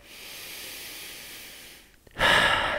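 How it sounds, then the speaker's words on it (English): Slow, deep breathing during a seated desk exercise routine: a long soft airy exhale, a brief pause, then a louder, close inhale. "deep breathing"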